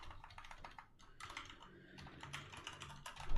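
Fast typing on a computer keyboard, with close, irregular clicking bursts and short pauses, heard alone without speech.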